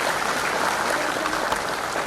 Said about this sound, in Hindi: जोरदार तालियां हो जाएं धन्यवाद के लिए।